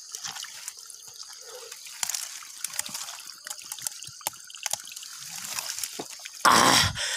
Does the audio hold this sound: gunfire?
no